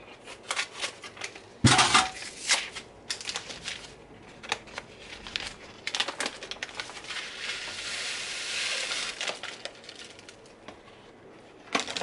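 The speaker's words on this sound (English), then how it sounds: "I'm going to kind of just stir it up, kind of mix everything together to make sure everything's even" A whisk rattles quickly and steadily against the sides of a bowl as a tilapia seasoning mix is stirred, with loud bursts of clattering and scraping and no voices.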